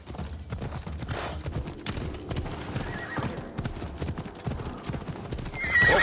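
Hooves clip-clop in a steady galloping rhythm as a horse runs in Assassin's Creed Odyssey, with a whinny mixed in; the hoofbeats stay close and continuous, and a louder swell arrives near the end.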